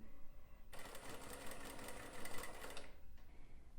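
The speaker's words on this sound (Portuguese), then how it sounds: "Vou costurar um pouquinho e já mostro para vocês" A sewing machine stitches fabric bias binding in a fast, even mechanical whirr that runs for about two seconds, close and clear against a quiet room, then stops abruptly, with no talking.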